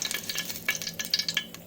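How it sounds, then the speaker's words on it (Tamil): Oil poured into a cooking pot gives quick, close scraping and sizzling crackles in short bursts, with no voices. "இப்போ ஒரு பாத்திரத்தில் 50 ml ஆயில் சேர்த்துக்கிறேன்"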